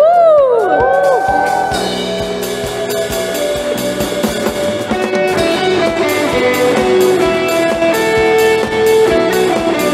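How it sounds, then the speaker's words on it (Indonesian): A church congregation at a worship service whoops and shouts in a loud burst over ringing music and percussion, with voices rising across the room. "Semua yang percaya boleh sorakan."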